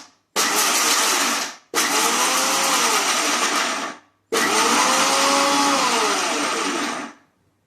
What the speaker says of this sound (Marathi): हे मी मिक्सरला ऑन ऑफ करत हे बारीक करणार आहे